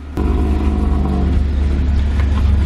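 A BMW 318ti's M42 engine, its warm-start misfire fixed, starts up and idles with a deep, steady rumble, loud and close, with a slight rise in pitch.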